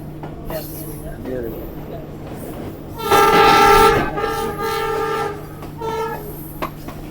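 A ZCU20 diesel locomotive hauls a passenger train gathering speed after Narowal station, its loud horn blaring for about a second amid steady rumbling and rattling wheels, followed by fainter horn calls as a voice talks over it.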